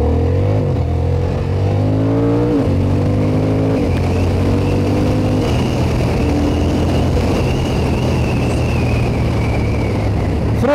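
A Honda Hornet CB750 motorcycle engine revving and accelerating through several quick-shifted gears, loud and close, each shift marked by a brief dip before the pitch climbs again.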